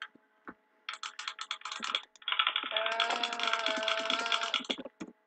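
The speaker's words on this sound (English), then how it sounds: "I hear spam clicking" Rapid clicking from a computer mouse or keyboard during a video game, a quick run of taps that swells into a dense, continuous rattle of clicks, close and fairly loud with no talk over it.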